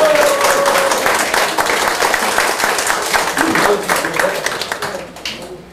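Crowd applause at a party members' convention greeting an arriving official, many hands clapping steadily under a voice, thinning out and fading near the end.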